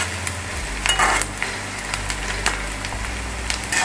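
Onions sizzle and crackle in a pan of hot mustard oil for an Assamese bottle gourd curry, with a steady frying hiss, scattered pops and occasional stirring scrapes, and no talk.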